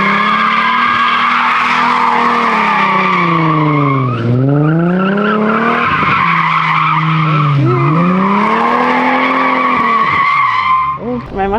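A BMW 435i stage 2 drifts through Montreal streets, its tires skidding and squealing continuously while the engine note rises and falls in long, loud sweeps for the whole stretch, cutting briefly between slides.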